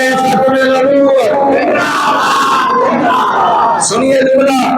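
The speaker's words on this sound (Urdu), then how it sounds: "ہاتھ بلند کر کے نعرے کروا دے تاجدار" Large crowd chanting the religious slogan Tajdar-e-Khatm-e-Nabuwwat in unison at a religious gathering, loud and sustained with voices rising and falling together, a second surge of shouting near the end.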